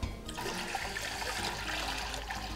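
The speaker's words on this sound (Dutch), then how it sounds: "En dan vullen we deze aan met 900 ml koud water." 900 ml of cold water pours steadily into a large pot with a full, rushing splash that continues without a break, close and fairly loud.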